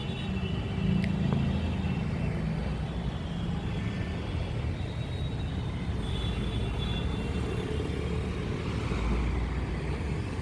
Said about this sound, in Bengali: এই রোডে কিন্তু হেভি ট্রাফিক থাকে, বিশেষ করে বাইক চালকদের একটা আলাদাই ক্রেজ দেখা যায় রোডে